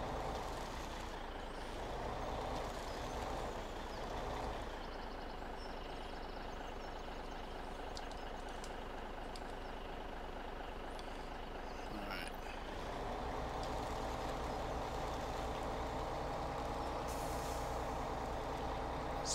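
A truck drives in a single-player farming video game, its steady engine rumble running throughout with a few air-brake hisses and a shift in tone partway through.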